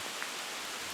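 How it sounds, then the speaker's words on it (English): Heavy rain pours down in a steady, dense hiss, faint and distant with no voices, the sound of a downpour at Sheffield Forest. "it's absolutely tipping down"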